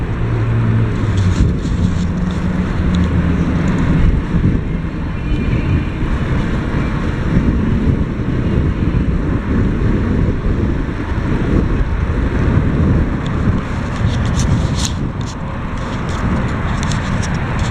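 Strong wind buffets the microphone while cycling outdoors, a steady loud roaring rumble that continues throughout with no talk.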